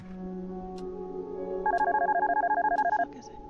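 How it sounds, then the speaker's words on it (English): Telephone in the horror game Darkness Within rings in a harsh, rapid electronic trill, a steady run of loud repeated pulses lasting over a second over a low droning hum, ending abruptly. "The most obnoxious phone ever."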